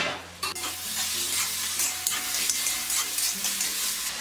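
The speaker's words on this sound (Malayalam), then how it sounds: "അരിഞ്ഞു വെച്ചിരിക്കുന്ന ടൊമാറ്റോ ചേർത്തിട്ട് ഇളക്കി കൊടുക്കാം." Chopped tomato being stirred into chicken frying in a pan for a Kerala-style chicken varattu, with a steady close sizzle and scraping stirs throughout, no voices.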